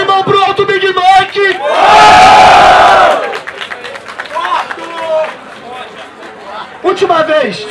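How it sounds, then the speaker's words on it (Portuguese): Loud burst of cheering and shouting from the audience at a Brazilian rap battle, Batalha do Tanque, lasting over a second between stretches of a voice talking over restless crowd noise. "Barulho e mão pro alto, Big Mac"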